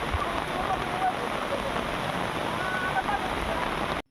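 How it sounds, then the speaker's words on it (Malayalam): Heavy rain falls at a Vagamon tea plantation, a dense, even hiss of downpour that holds steady and fairly faint throughout before cutting off abruptly at the end. "അപ്പോൾ നല്ല മഴയാണ്."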